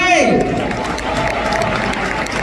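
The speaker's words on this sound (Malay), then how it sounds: "Tepukan untuk MW." An audience at an Amway Malaysia recognition event in Kuala Lumpur applauds, a loud, dense wash of clapping that starts under a voice over a hall speaker and then carries on steadily.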